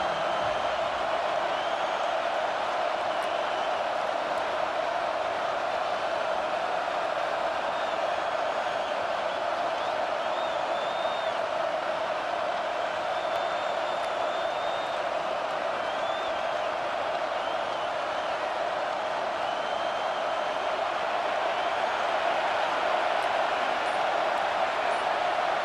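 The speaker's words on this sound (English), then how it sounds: "Listen to this crowd just shaking the girders of this place" Stadium crowd roaring in a college football video game during a rivalry game, a steady, dense wall of cheering and whistles that holds at a constant loud level throughout.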